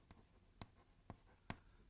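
A pen writes on paper with five short, evenly spaced scratchy strokes, close and fairly quiet, with no voices.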